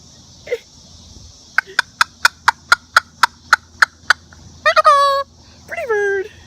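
A Moluccan cockatoo gives a rapid series of about ten sharp, evenly spaced clicking calls, followed by two loud, harsh screeching squawks close to the microphone.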